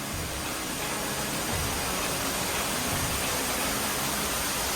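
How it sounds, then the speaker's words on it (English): Falling water at famous Texas waterfalls, a steady, full-bodied roaring hiss that stays constant and close throughout with no voices. "Natural beauty and water coming down here in these gorgeous waterfalls, these famous waterfalls."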